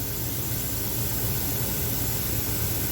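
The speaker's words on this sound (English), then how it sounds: "Now I'm going to turn my exhaust fan on" Workshop exhaust fan running beside a K40 laser cutter, a steady broadband whoosh with a low hum underneath, continuous and fairly loud with no speech.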